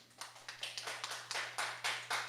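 A small audience gives faint, scattered clapping at a Korean traditional liquor (makgeolli) master class as a lecturer is introduced. Several distinct bursts of claps come close together over a low steady hum, with no talk.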